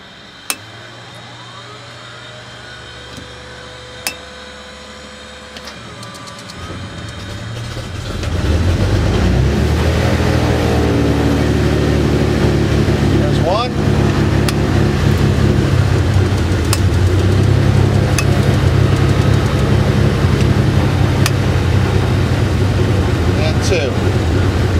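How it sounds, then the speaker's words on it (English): Beagle 206 twin-engine aircraft starting up: a quiet idle hum with a couple of clicks, then the engines catch and surge into a loud, steady drone that holds to the end. "I'll start the engines now."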